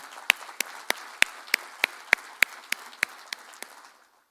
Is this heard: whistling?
no